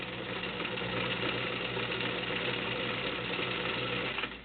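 A White Selectronic model 970 heavy duty 1.6 amp sewing machine runs a feather stitch, its steady whirring motor and rapid needle chatter continuous and close for several seconds, easing off only at the very end.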